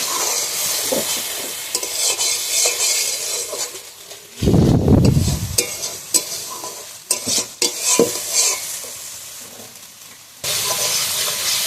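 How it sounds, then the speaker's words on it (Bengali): Spice paste for a bhetki fish-bone curry is stir-fried in a pan with a little water, giving a constant sizzle broken by loud scraping stirs of the spoon, close by and with no voices. "মশলাটা এবার ভালোভাবে কষিয়ে নেব।"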